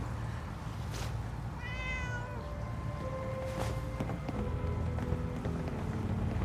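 A cat meows in the video game Fallout 4, giving several drawn-out meows of rising and falling pitch over soft ambient game sound, fairly clear and at moderate distance, with no talk.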